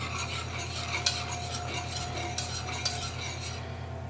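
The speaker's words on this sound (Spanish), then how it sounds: "Mezclamos." A spoon stirs macaroni and cheese soup in a pot after pepper, thyme and nutmeg go in, making a soft, steady scraping swish over a low hum, with a few light clinks.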